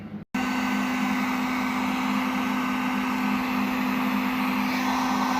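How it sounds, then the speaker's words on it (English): A heat gun blows steadily on weld-through primer during rust repair on a vintage Mustang's shock towers, a continuous close airy roar with a steady hum, starting after a brief cut at the beginning and running alone without talk. "You can use a heat gun to get this weld through primer"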